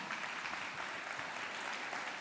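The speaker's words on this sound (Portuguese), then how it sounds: "pode aplaudir o Senhor" Church congregation applauding during a Portuguese-language worship sermon, a steady dense wash of clapping held at an even level throughout, with no voices on top.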